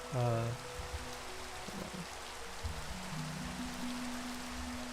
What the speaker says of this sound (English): this rain is starting to get on my nerves a little bit